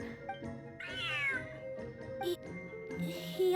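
An oversized cat in the Genshin Impact game gives a drawn-out meow over soft background game music, followed by shorter mews and chirps.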